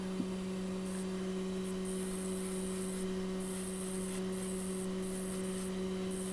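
Gloss black spray paint hisses onto a Hot Wheels car in several separate bursts of varying length, heard over a steady low electrical hum.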